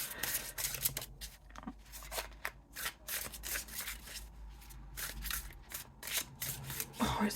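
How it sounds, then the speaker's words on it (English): A deck of tarot cards, the U.S. Games Fyodor Pavlov deck, is shuffled by hand in close, quick bursts of riffling and sliding that run steadily throughout, with no talking over it. "I can't shuffle that way, so don't go off my shuffle for that."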